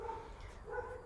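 Dogs barking somewhere off in the distance, two short bursts of faint barks over a low background rumble, with no one talking.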